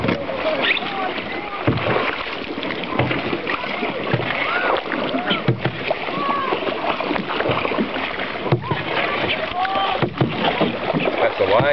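Paddles dip and splash as a team drives a raft through thick water during the Great Nhill Raft Race, steady rhythmic strokes up close under shouted encouragement from the crew.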